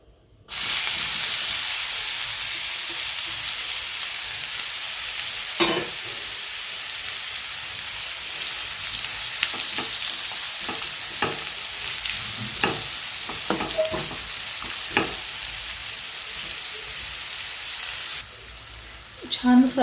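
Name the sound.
bitter gourd frying and being stirred in a pan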